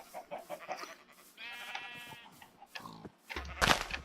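A sheep in the video game Minecraft bleats in one long wavering call near the middle, framed by short scuffs and a sharp block-breaking crunch at the end.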